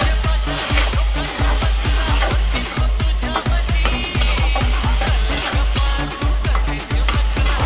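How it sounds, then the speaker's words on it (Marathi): A spoon stirs onion and tomato in a pan, scraping in a steady repeated rhythm over a soft sizzle, close up and with no talking. "कांदा आणि टॉमॅटो आपण हे एकत्र मिश्रण करूया एकजीव होईपर्यंत त्याला चांगलं मिक्स करून घेऊ"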